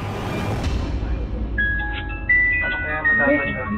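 Battery-operated toy doll suddenly starting to play a tinkling electronic tune, bright chiming notes emerging after a moment of background rustle, with people talking over it in surprised voices.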